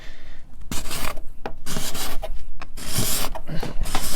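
A card scraper pulls shavings off wood along a glue line on a Queen Anne style highboy piece, making repeated rasping strokes, close and loud, with short pauses between passes and no talking.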